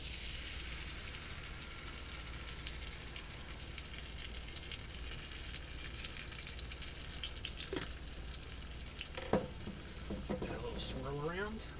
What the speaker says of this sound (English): we're going to cook our meatballs all the way in the sauce